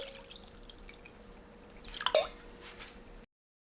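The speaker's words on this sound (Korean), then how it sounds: "물에 헹구고 체에 받쳐두세요" Soaked rice cakes for Korean rice-cake stir-fry are rinsed in water and drained in a sieve, giving a brief burst of splashing and dripping midway over a quiet background.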